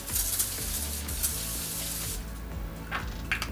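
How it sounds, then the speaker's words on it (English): An Evian facial water spray mists in a strong continuous hiss close by, with a few sharper spurts toward the end. "So I'm going to take this Evian facial spray."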